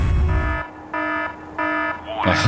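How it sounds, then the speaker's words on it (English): Alarm blaring in Warhammer 40K Fire Warrior, a repeated electronic tone sounding in three even pulses between bursts of game noise, loud and close. "A lot of levels will just have these alarms blaring half the time"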